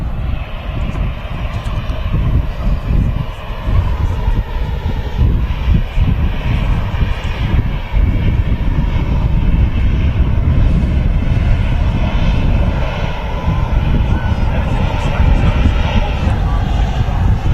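An Etihad Boeing Dreamliner airliner rolls for takeoff at Manchester Airport, its engines a loud, steady broadband roar that holds throughout, with voices faintly present beneath.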